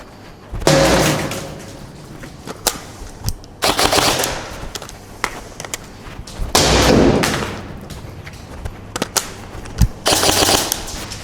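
An airsoft AEG rifle fed by an Amarok magazine fires several sharp bursts of rapid full-auto shots, each lasting about a second, separated by short pauses and single clicks, loud and close.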